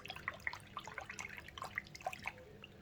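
Thin pins from a Warhound Titan model shaken in a small container of water for cleaning: light, quick sloshing with faint drips and tiny clicks, close and soft.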